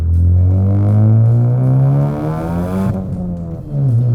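Modified Ford Focus ST with an aftermarket exhaust accelerating hard, a loud, close engine note climbing steadily in pitch through the revs, dropping briefly at a shift and then rising again.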